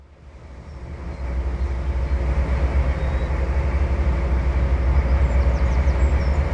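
A locomotive runs on rails during a top speed test, a loud steady rumbling drone that swells over the first second and then holds constant, with no voices.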